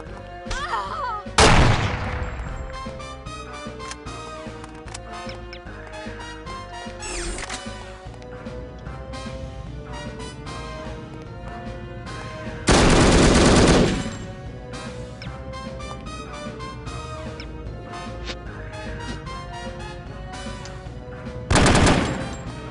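Weapons fire, including a grenade launcher, in the video game No One Lives Forever. Rapid crackling gunshots run over game music, broken by three loud blasts, one early, one midway and one near the end.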